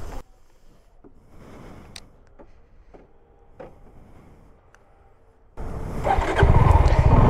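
A Suzuki SF 250cc motorcycle engine fires up near the end after a stretch of quiet clicks and mechanical knocks, settling into a loud, close idle with a rumbling low end.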